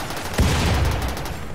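Gunfire from a mech cluster battle in the video game RimWorld, a sudden loud burst of shots followed by a dense rattle of continuous firing.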